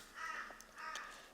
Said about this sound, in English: them crows, oh my god.